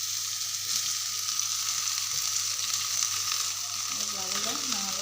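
Onions and rice frying together in a pan for restaurant-style veg fried rice, a steady close sizzle with crackling throughout and a few light stirring scrapes near the end, no talk.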